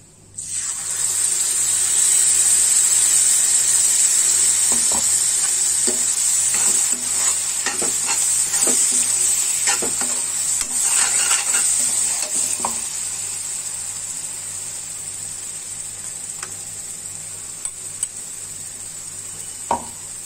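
Spice masala and a ground paste fry in hot oil with steady loud sizzling while a spoon stirs, scraping and tapping against the pan, close and continuous.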